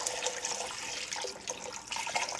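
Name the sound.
beef broth poured into massaman curry pot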